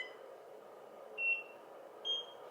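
Two short, clear electronic beeps from a beauty treatment device at a spa, about a second apart, sounding alone over a soft steady room hum.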